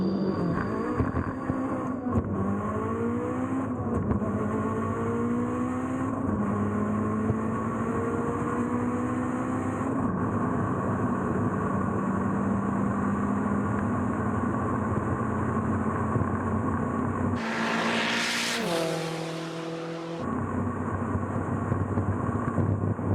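A tuned Mitsubishi Evo street car accelerating flat out on a 0-1000 m full-throttle run, its loud, close engine roar climbing steadily in pitch through several gear changes, with no talking.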